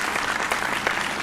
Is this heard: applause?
yes